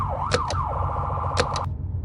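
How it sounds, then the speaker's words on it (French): A siren switches on in a survival-horror drama scene: a steady high wail with sharp rising sweeps and bursts repeating, loud and continuous, then cutting off near the end. "La sirène se met en marche."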